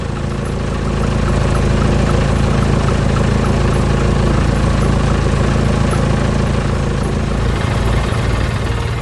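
An excavator and a dump truck idle together at a construction site. A continuous, even engine rumble holds steady throughout with no voices.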